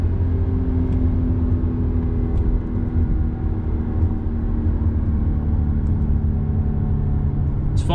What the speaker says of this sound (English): Love the high RPMs. You just get on it right here, just shoots you right back.